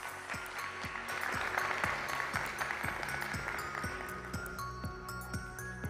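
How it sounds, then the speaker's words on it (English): An audience at an international academic conference applauds in a steady, moderate ripple of claps that lasts throughout, with a faint voice underneath. "A big round of applause, please."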